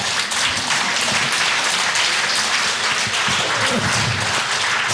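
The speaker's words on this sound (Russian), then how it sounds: "А вы знаете, как артисту приятные аплодисменты." A concert audience applauds steadily, dense overlapping hand claps filling the room at a consistent, fairly loud level for the whole stretch, with no speech over it.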